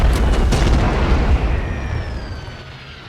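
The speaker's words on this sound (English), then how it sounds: "Roll out the guns! And here comes the broadside." A warship's cannon broadside in The Great War 6.0 strategy game: a heavy, booming volley of several close blasts in quick succession, then a rumbling decay as the echoes fade.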